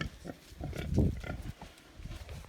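Piglets grunt and snuffle nearby in short, irregular bursts, with one louder grunt standing out among the softer snorts, on a Ukrainian village farm.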